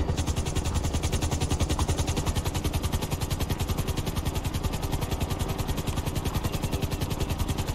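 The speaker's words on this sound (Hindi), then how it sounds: "ऐसे स्पीड कम की जाती है हेलीकॉप्टर की, एक जगह पर ही ये उतर जाता है।" A helicopter in the video game GTA 5 hovers and comes down to land, its rotor chopping in a steady, rapid rhythm over a constant engine whine, moderately loud and unbroken throughout.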